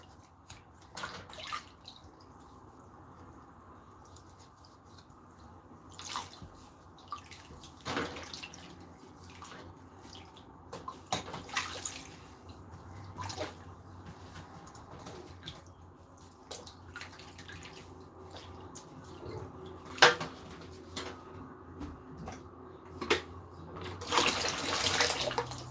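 A tap runs while dishes are washed up in a sink, with soft splashes, drips and light clinks through most of the clip before a louder gush of running water near the end.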